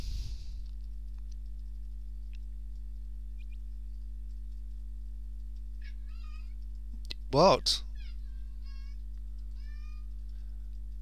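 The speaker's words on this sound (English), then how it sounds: "Hello, this is the cat." A cat lets out one short, clear meow near the microphone partway through, otherwise quiet apart from a steady low hum and faint ticks, with a brief spoken word nearby.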